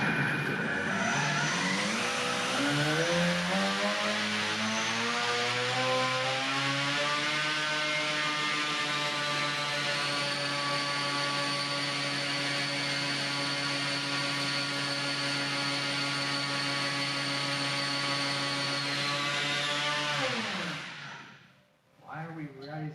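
Electric ducted fans run up during a stress test, their whine rising in pitch over several seconds, then holding a loud, steady multi-tone drone for a long stretch before cutting off abruptly near the end.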